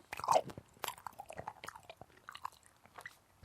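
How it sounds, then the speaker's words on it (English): Gummy candies are chewed close to the microphone, with soft wet bites and squishy chewing sounds in an irregular rhythm, no talking. "excuse me for chewing these gummies in your ear."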